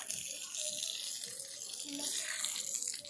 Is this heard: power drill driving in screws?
no